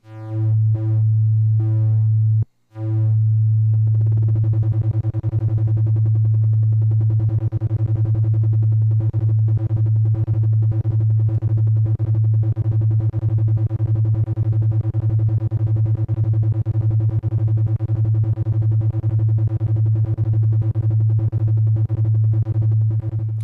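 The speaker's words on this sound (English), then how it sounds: "And you can get some fun clipped sine wave sounds." Clipped sine wave tone from an Abstract Data ADE-30 Wave Boss synth module, a loud steady buzzy drone that cuts out for a moment early on, then returns with a fast rhythmic pulsing flutter that continues to the end.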